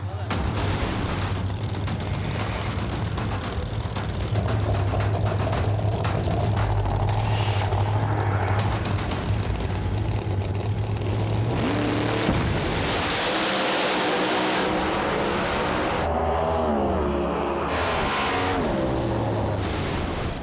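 Drag race cars launch and roar down a street outlaw strip in a $1,500 race, loud engine noise filling the whole stretch with a surge and rising whine past the midpoint, under steady crowd and commentator chatter.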